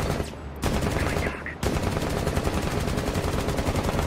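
Rapid automatic gunfire in the video game Rainbow 6 Siege, a loud continuous stream of shots with a short burst, a brief gap, then sustained firing to the end.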